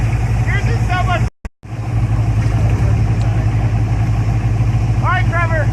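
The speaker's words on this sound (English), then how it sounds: "are you idling?" A Toyota off-road vehicle's engine idles with a steady low rumble close by, while people talk over it and the sound briefly cuts out near the start.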